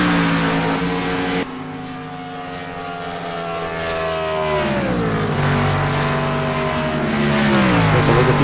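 Race cars at Eagle Creek Speedway roar past in a loud, sustained engine drone, the pitch bending downward as the field sweeps by close, with no talking over it.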